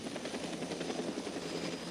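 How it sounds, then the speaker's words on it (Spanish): A helicopter flies over the area, its rotor producing a steady, rapid chopping thrum with a broad engine rumble that stays constant and moderately distant throughout. "Un helicóptero está sobrevolando en la zona 27."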